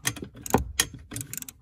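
A ratchet on a flexible extension loosens a bolt inside a 2011 Honda Civic during repair of an air vent mode actuator, giving close, rapid bursts of clicking pawl in uneven short strokes.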